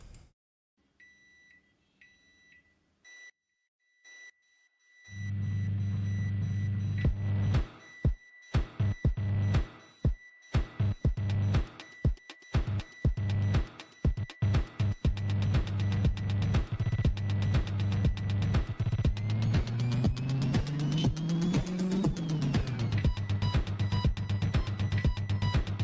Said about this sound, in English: making an entire song out of just a microwave oven, using the doors and the notification sounds